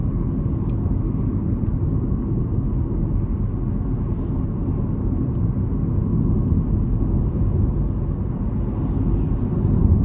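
Steady low road rumble and engine drone from a 2021 Chevrolet Trailblazer LT with a 1.2L engine cruising at about 40 mph on a flat surface, constant and even throughout, with no voices.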